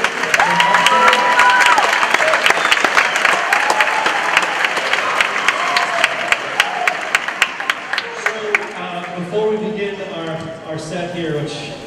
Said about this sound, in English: Please give them a round of applause if you would